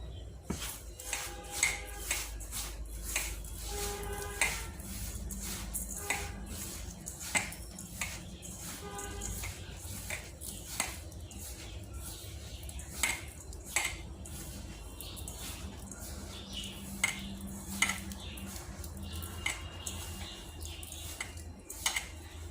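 Salt being mixed into food in a bowl with a spoon while making malpua with semolina and flour, giving soft repeated scraping and clinking of utensil against the bowl, close and steady at an irregular pace.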